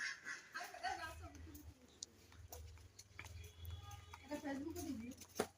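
Ducks with newly hatched ducklings give soft, scattered quacks close by at low volume, mixed in with people talking.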